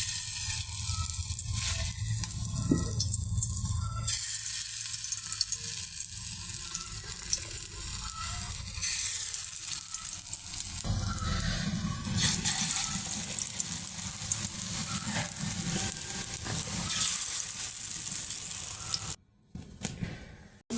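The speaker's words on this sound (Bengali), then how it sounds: "কড়াইতে সরিষার তেল দিছি, তেল গরম হয়ে গেছে, এখন সুন্দর করে বড়াগুলো দিয়ে দেব।" Fritters of mustard flowers and red lentils fry in hot mustard oil in a kadai during village cooking in Jessore, giving a steady watery sizzle that keeps going and drops out briefly near the end.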